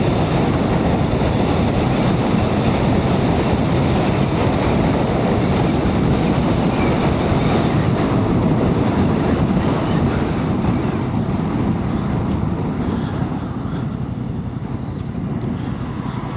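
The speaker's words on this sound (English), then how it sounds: "there is an awful lot of wind blast" Heavy wind blast roars against a rider on a Yamaha MT-07 motorcycle at 50 mph, a loud continuous buffeting rush mixed with engine drone, steady throughout with no voice.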